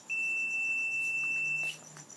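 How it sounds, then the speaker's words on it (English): A doorbell buzzer sounds one steady, piercing high-pitched tone for about a second and a half, then cuts off, leaving faint background noise. "when you press it, the doorbell goes off"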